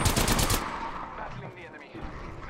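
Rapid automatic gunfire from a match of the battle royale game Apex Legends rattles loudly for about half a second, then gives way to fainter scattered shots and game noise.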